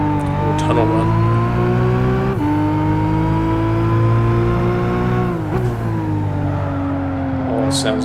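A Nissan ER34 Skyline runs through a tunnel in Gran Turismo 5, its engine droning steadily with strong harmonic tone and small shifts in pitch as the revs change, close and constant throughout.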